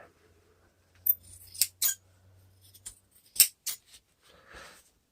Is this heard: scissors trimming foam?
yes